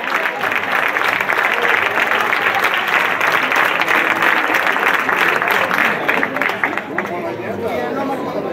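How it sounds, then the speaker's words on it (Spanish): A live audience applauds a flamenco singer and guitarist with sustained, dense clapping and some crowd chatter mixed in, holding steady for the whole stretch before easing slightly near the end. "Fuerte ese aplauso para ellos."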